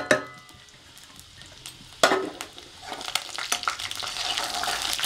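Cumin, ginger and cashews hit hot ghee for millet venpongal, starting with a few sharp clatters and a splash, then a rising, steady close sizzle with light stirring.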